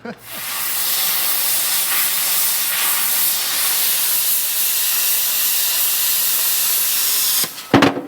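A loud, steady cutting hiss roars for several seconds as a steel truck frame is cut off, then cuts off abruptly, followed by a couple of clunks.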